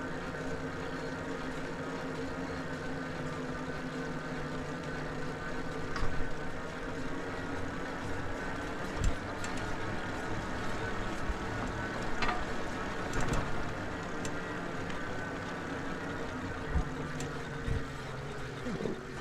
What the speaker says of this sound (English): I'm gonna kind of be quiet here so you can hear the motor as I climb up through this next section of the hill